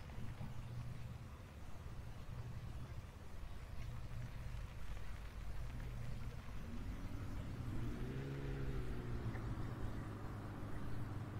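Tractor engine pulling a fuel trailer in Farming Simulator 17, with a steady low motor drone that rises in pitch near the end as it accelerates, heard alone and fairly close.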